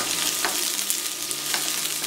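Sliced dry onion and two garlic cloves sizzle in a hot pan, a bright continuous crackle with a few stirring scrapes, close and alone.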